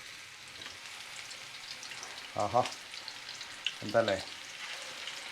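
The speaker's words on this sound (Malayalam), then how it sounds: "അപ്പോൾ നമുക്കൊന്ന് നമ്മുടെ ചിക്കൻ ഒന്ന് ഇതിലിട്ട് ഫ്രൈ ചെയ്തെടുക്കാം. ഡീപ്പ് ഫ്രൈ ചെയ്യണം." Pieces of chicken 65 deep frying in hot oil, a soft, even bubbling hiss running throughout, with a person speaking briefly twice over it.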